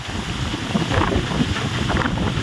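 Strong wind gusts buffet the microphone on a windy outdoor spot, producing a loud, continuous roar with no voices.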